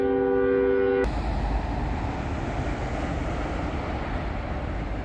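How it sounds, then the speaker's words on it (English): A long train rolls past as a steady broadband rumble, preceded by a brief sustained horn blast that cuts off after about a second, heard from a truck on the road. "That was a long train."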